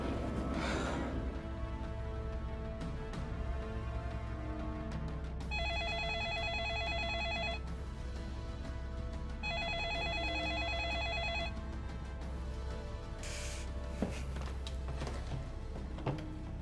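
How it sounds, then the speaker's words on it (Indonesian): A telephone ringback tone plays while a call is being placed in an old factory, with two repeated rings separated by a pause over a quiet, humming background. "Saya akan telepon Pak Kamal besok, ya."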